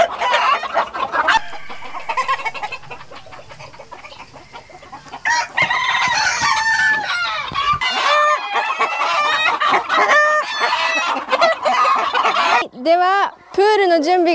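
A large flock of chickens on a Hawaii farm clucks, squawks and crows continuously and loudly, with overlapping calls from many birds close by.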